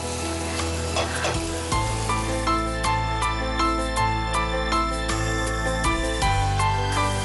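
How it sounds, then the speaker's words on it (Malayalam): Onions and garlic sizzle in a hot pan, a steady loud frying hiss with scattered clicks and scrapes of stirring, and no talk over it. "ഇനി ഉള്ളിയുടെ നിറം മാറുന്ന വരെ നമ്മളിങ്ങനെ വഴറ്റണം."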